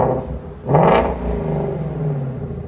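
A 2017 Ford Mustang GT350 with a 5.2L Voodoo V8, resonator delete and X-pipe, exhaust valves open: one sharp loud rev flares up from a deep rumbling idle, then falls back to a throbbing idle, close by.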